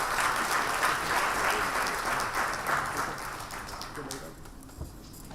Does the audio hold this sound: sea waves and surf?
no